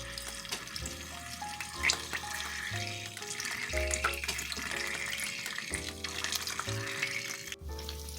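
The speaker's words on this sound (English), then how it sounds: "put our plantains in to fry them" Plantains fry in hot vegetable oil in a frying pan, giving a soft, continuous sizzling hiss beneath louder background music.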